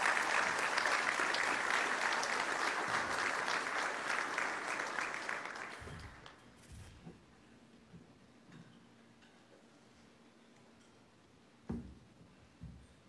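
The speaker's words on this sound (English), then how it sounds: "Would you please give her an applause as she comes to the stage?" An audience at a chamber of commerce annual meeting applauds an Ambassador of the Year award winner. The steady clapping lasts about six seconds, then fades to a quiet room with a couple of faint knocks.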